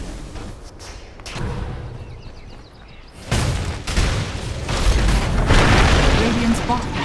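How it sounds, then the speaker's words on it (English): In a Dota 2 match, the Radiant bottom barracks collapse amid deep booms and thuds, heavy crashing impacts building louder toward the end, layered over game effects and voices talking. "Radiant's bottom barracks has fallen"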